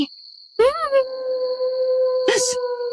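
A dog howls in a long, sustained, wavering tone that rises at the start and holds steady, close and loud, over a constant high insect-like whine, with a brief noisy burst near the end.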